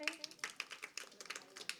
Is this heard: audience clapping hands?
yes